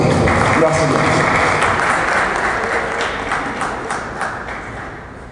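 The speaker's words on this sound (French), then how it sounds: "Imam Konaté, qu'on applaudit très fort, s'il vous plaît." Loud, dense applause for an imam at an electoral commission meeting with the Ivorian diaspora fills the room, then gradually thins and fades over several seconds.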